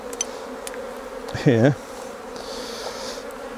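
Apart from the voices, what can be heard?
honey bees buzzing around a hive frame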